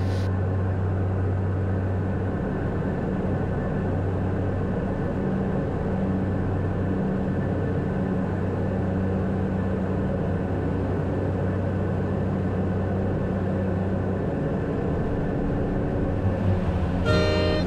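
A commercial airliner landing in bad weather, heard as a steady, loud cabin roar of engines and airflow throughout, ending in a brief burst of louder rattling noise.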